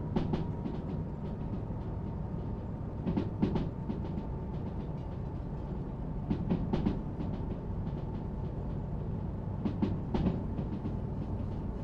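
A museum locomotive rolling along track with a steady low rumble and occasional clusters of wheel clicks and clanks, heard up close with no voices.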